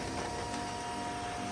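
A home printer running again after a paper jam was cleared, giving a brief steady mechanical whir and hum with a constant tone and no pauses.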